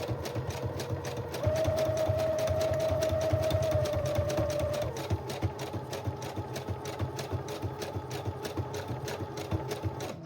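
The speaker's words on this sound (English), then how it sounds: "it's almost like the sewing machine naturally kind of pulls it where it needs to go" A sewing machine stitches through the layered pages of a shaped junk journal, running in a steady, close, mechanical whir with rapid needle clatter, a louder sustained tone for a few seconds and then a continuous even rattle to the end.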